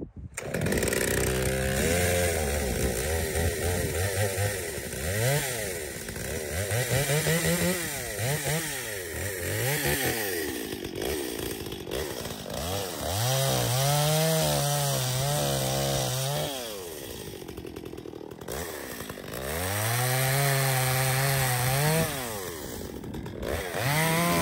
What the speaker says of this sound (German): Säge springt wieder an